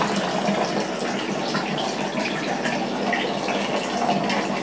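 Water rushes steadily down a bathtub drain after a pet cat's bath, a close, continuous splashing gurgle with no talk.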